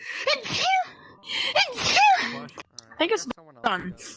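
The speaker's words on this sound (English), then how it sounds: "No, it's not good to sneeze." Two sharp, explosive sneezes burst out close to the mic, each preceded by a quick indrawn gasp, with people chatting in between and afterward.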